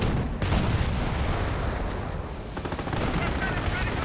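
Rapid gunfire and flak bursts crackle through a dense, continuous wash of battle noise in a 2v2 World War II strategy game match, loud and steady with repeated shots layered over each other and faint voices underneath.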